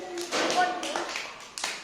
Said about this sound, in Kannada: ಚಪ್ಪಾಳೆ ಹೊಡೀರಿ